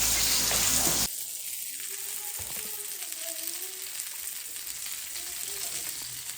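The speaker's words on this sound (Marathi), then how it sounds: "चला आता बघ इथे फिश फ्राय होते" Fish frying in a pan makes a steady, dense sizzle that starts with a loud burst and then settles into a constant crackling hiss, with faint murmured voices underneath.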